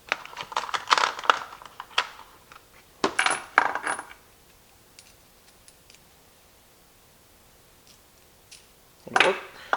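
Metal nuts clinking and rattling as they are pulled out of a container and handled, in several short bursts near the start, around three seconds and at the end, with quiet pauses between.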